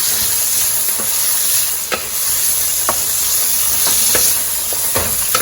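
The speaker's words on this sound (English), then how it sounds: "I'm just gonna cook this up for like 1 minute or 2 minutes" Beef negimaki steak rolls fry in a pan with a steady bright sizzle, punctuated by occasional sharp pops and stirring clicks, close and loud with no talking.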